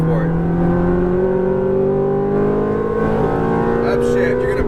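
A Ferrari F430 engine accelerates hard on a race track, its loud, close roar rising steadily in pitch, with a voice briefly talking over it near the end.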